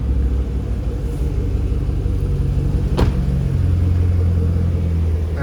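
A 2014 Chevrolet Camaro ZL1 convertible idles nearby, a deep steady engine rumble with a slight swell in the final seconds and a single sharp click midway.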